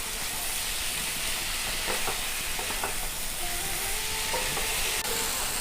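Taro stolons are stirred into masala in a hot pan beside shrimp, making a constant sizzle broken by a few scraping stirs and faint tonal squeaks.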